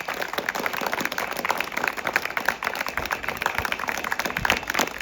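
An audience claps throughout at a Republic Day speech gathering, honoring martyrs and revolutionaries, with steady dense applause at moderate level and no speech.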